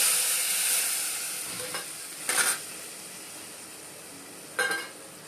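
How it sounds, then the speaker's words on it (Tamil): Food sizzles in a pan with a steady hiss while cooking lemon rice, broken by a couple of brief louder bursts of stirring or tossing. "இதெல்லாம் பொன்னிறமாக வதங்கணும்."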